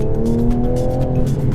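A Toyota Supra engine revs under acceleration with a steady, rising harmonic drone, loud and close, with no talking over it.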